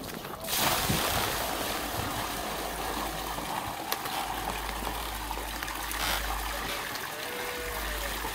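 Water poured out for farm animals in a village makes a steady, continuous gushing stream. It runs close and unbroken for several seconds.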